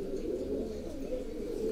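Pigeons, a cross with homing pigeons, coo softly in a low steady murmur close by, with no talk over them.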